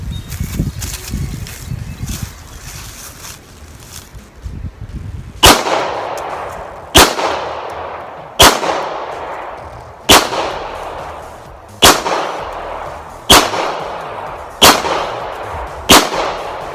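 A Beretta 92FS pistol being test fired lets off nine sharp, loud shots at a steady interval of about one and a half seconds, each one ringing out and fading before the next, after a few seconds of quiet handling noise.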